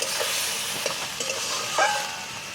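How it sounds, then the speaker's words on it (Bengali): A spatula stirs Bengali chicken kosha made with country chicken in a pan, giving a steady scraping, sizzling wash with a few louder strokes, close and continuous. "এখন আবার উঠিয়ে নাড়া আনা হচ্ছে খুন্তি দিয়ে"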